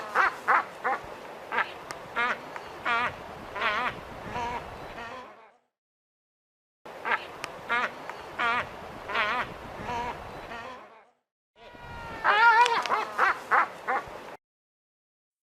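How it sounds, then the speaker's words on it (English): Albatross calls in repeated bursts of harsh, quacking cries, three separate bouts broken by short silences, loud and close with no other sound. "Albatross."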